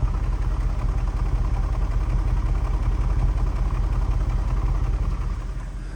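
A Jaguar XF 4.2L engine idles steadily up close, a low, even rumble holding throughout and dipping slightly at the end, with no voices.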